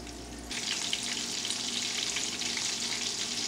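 Porgy fish and zucchini fry in a pan, a steady loud sizzle that bursts in abruptly after a short quiet moment and crackles on without pause.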